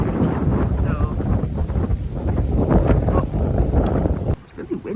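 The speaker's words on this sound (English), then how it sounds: "oh, it's really windy." Strong wind buffets the microphone in dense, low rumbling gusts during an outdoor walk on a campus drive, steady and loud for most of the stretch before easing abruptly near the end, with occasional faint voices underneath.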